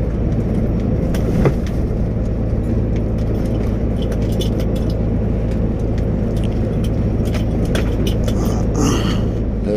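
A heavy truck drives on a rough road, its cab shaking and rattling hard over a constant engine and road rumble, with loose items jangling close by and no speech.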